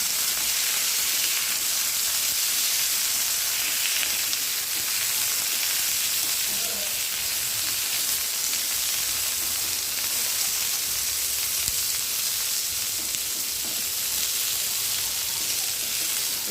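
Pieces of pointed gourd (potol) frying in a pan make a constant, loud oily sizzle that holds steady for a long stretch, with faint stirring underneath, heard up close.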